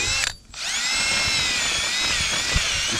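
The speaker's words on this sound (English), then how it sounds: "we might have to work as fast as we can with this drill" Cordless drill fitted with a paddle bit boring into the ground, a loud close whine with a brief pause near the start, then a steady run.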